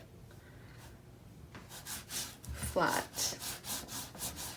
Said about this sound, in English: now we're going to just use our bone folder and burnish it down